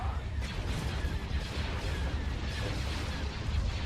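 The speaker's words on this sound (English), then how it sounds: "let's get hypervelocity cannon on that" Hypervelocity cannon fire during a space battle in Star Wars: Thrawn's Revenge, heavy booming blasts rolling continuously under a dense rumble of combat noise.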